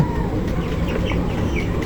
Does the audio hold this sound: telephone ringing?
no